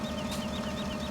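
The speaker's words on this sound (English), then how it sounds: "So this is the standard in-game sound for this tractor" Fendt 900 tractor engine idling in Farming Simulator 17, a steady low droning hum with a faint rhythmic pulse, close and constant for about a second.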